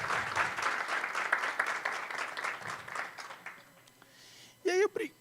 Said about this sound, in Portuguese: eu queria uma salva de palmas, porque sem eles, nada teria acontecido.